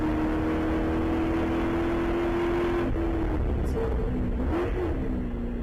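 A Spec Corvette race car on the track at Arizona Motorsports Park drones in a loud, steady engine note that shifts pitch near the end as it backs off and sits amid constant track noise.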